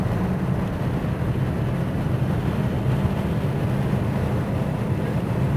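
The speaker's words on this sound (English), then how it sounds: "Squeeze on the power. 280 horsepower going through the front wheels right now." A 280 hp front-wheel-drive sports car accelerating on a banked track, its engine giving a loud, steady drone mixed with road and wind roar, continuous and close.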